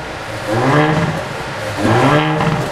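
A new showroom Haval H6 GT with a factory sport exhaust gets two distinct throttle blips. Each brings a rising, growling rev up close and loud before it settles back to idle.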